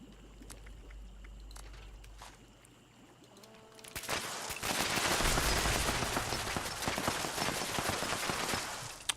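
An explosive weapon firing in Fallout 76: a quiet stretch of game ambience gives way to a loud, sustained burst of rapid shots and blasts that continues to the end.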